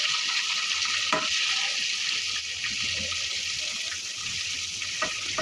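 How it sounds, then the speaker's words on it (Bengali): Chicken pieces deep-frying in hot oil at home, a continuous dense crackling sizzle that holds steady throughout with a few louder pops, no talking. "এই যে আমাদের চিকেন ফ্রাইটা ভাজা হচ্ছে।"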